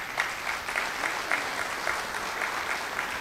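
An audience at a political seminar in Taperá applauds, a steady patter of many hands clapping at even strength throughout the clip, with no voices over it.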